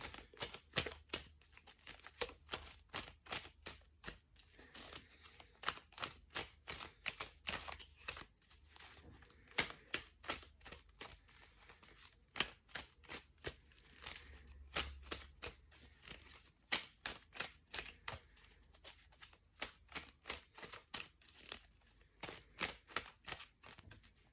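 Rapid, repeated riffling snaps of tarot cards being shuffled, quiet and close, in uneven bursts with no talking.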